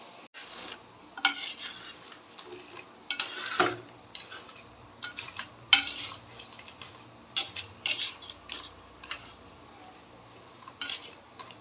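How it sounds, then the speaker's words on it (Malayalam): Crabs cook in a pan for crab roast, with intermittent scraping, stirring and clattering against the pan over a low simmer, close and uneven in rhythm. "ഇതാ ഇവിടെ നമ്മുടെ ഞണ്ട് കുട്ടന്മാർ കിടന്ന് തിളയ്ക്കുന്നുണ്ട് കേട്ടോ"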